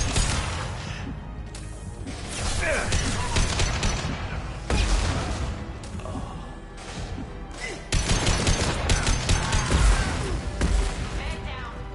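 Video game gunfire from Mass Effect comes in repeated loud bursts of rapid shots and crashing impacts, with brief pauses between volleys and game voices mixed in.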